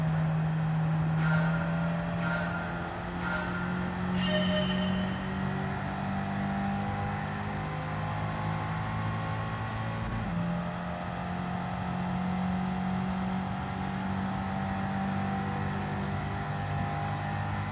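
A race car engine drones steadily at high speed while slipstreaming in the video game Gran Turismo 7, holding a sustained hum with a brief shift in pitch midway and no talk.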